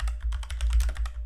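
Rapid clicking of keys on a computer keyboard, around a dozen close, crisp taps in quick succession over a low background hum.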